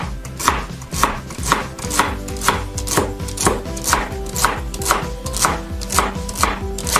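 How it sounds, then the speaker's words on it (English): Vegetables being chopped with a knife on a cutting board for chicken soup, a steady run of crisp, evenly spaced close-up chops at roughly two per second with no talking. "we're going to chop up our vegetables"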